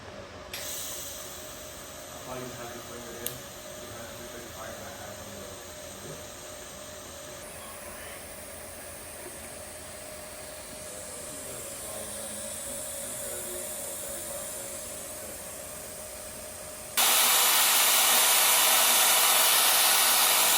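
Close-up welding on a turbo V-band flange for a turbocharged C6 Corvette stroker engine, heard as a steady hiss and crackle that runs for a long stretch before turning into a louder, harsher rush near the end.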